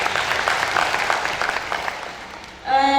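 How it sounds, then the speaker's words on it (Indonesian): Audience applause at a student council training gathering for Indonesian high schools, a dense burst of clapping that fades out within about two and a half seconds before a voice starts speaking. "Tepuk tangan untuk SMA Kertajati kita."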